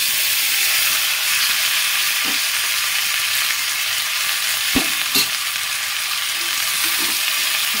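Cut okra with slit green chillies frying in hot oil in a pan, a loud, steady sizzle and hiss running throughout, with a few light knocks and stirring clatters, no voices.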